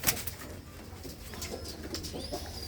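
A white-eyed pigeon of a costly breed coos quietly nearby, low soft calls over a hissy outdoor background, with a brief sharp sound at the very start.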